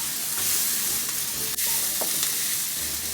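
Shallots and white onions fry in a pan for pad Thai, giving a loud, dense sizzle throughout with an occasional stirring scrape, and no voices.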